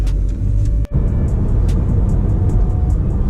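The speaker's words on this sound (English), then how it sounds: "So I would consider this street cruising, because I'm going about 45 to 50 miles an hour." Steady road noise from a car cruising at about 45 to 50 miles per hour, a continuous loud rumble with tyre and wind hiss and one brief dropout near the start.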